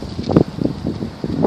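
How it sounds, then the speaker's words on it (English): Wind gusts outdoors and buffets the microphone in uneven low rumbling bursts, loud and close, with no other sound over it. "The wind is picking up, man."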